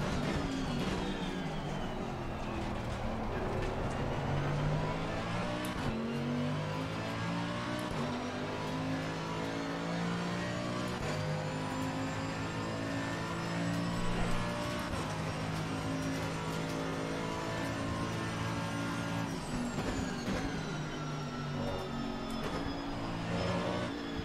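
Mercedes-AMG GT3 race car engine in a racing video game, droning steadily and loudly throughout with rising and falling revs and gear shifts, no talk over it.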